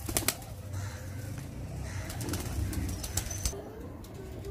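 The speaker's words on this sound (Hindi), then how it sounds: "और मज़ीद अपने बड़े कबूतरों का आपसे शौक करवाता हूँ मैं।" Large pet pigeons, including a Rampuri Banka pair, cooing softly in a loft, with low murmuring calls, occasional wing flaps and light rustling at moderate distance, no talking.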